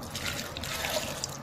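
Water from a roughly three-quarters-full cup is poured into a blender, making a steady, soft trickle and splash that runs on by itself.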